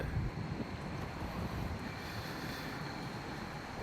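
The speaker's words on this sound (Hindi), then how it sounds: "मौसम रात को तो अच्छा हवा चल रही है" Night wind blows outdoors beside a hotel in Tulsa, Oklahoma, a steady soft rushing noise with gusty buffeting, fairly quiet and continuous.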